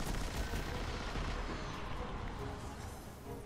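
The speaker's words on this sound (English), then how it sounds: "Machine gun." Dense, continuous machine-gun fire in the video game Destiny: Rise of Iron, a loud unbroken barrage with rumbling blasts throughout.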